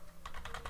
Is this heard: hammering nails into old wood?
no